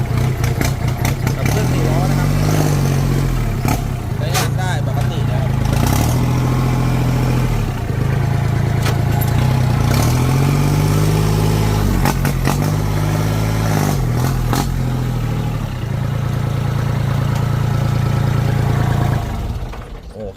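A 2009 Kubota L3408 tractor engine runs steadily in slow fourth gear, a loud, continuous low diesel drone with slight rises and dips in pitch throughout, close by with no pauses.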